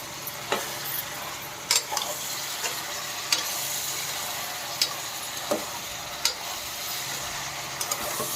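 Broad bean (chikkudukaya) curry sizzles steadily in a pan while a utensil stirs it, with scattered scrapes and clinks over a constant frying hiss, close and moderately loud, with no talking.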